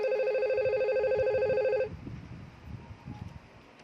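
A phone rings during a VoIP call simulated in Cisco Packet Tracer, a steady electronic ringtone that runs for about two seconds and then cuts off, leaving faint background noise.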